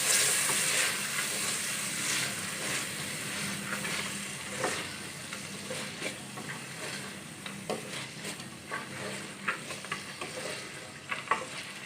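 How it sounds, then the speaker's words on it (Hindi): Soaked chana dal roasting in a pan gives a continuous soft sizzle, broken by scattered scraping and stirring clicks from a spoon that grow more frequent toward the end; no one speaks. "अच्छी तरह से भून लेंगे।"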